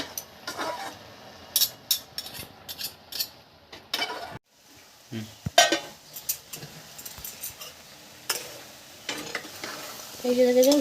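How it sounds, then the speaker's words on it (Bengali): Cabbage, potato and egg fry together in a pan for a Bengali bhurji, a close sizzle punctuated by scraping spatula strokes, with a brief quiet pause partway through and no talking. "একটু ভাজা ভাজা হবে।"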